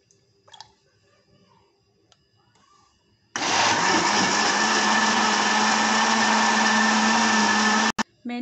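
A kitchen blender whirs into action on persimmon milkshake, starting abruptly after a quiet stretch and running loud and steady for several seconds before briefly cutting out and restarting.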